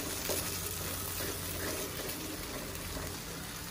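Peanut sauce thickened with cornstarch being stirred in a pan, giving a steady, low bubbling and scraping texture that runs continuously and faintly without any pauses.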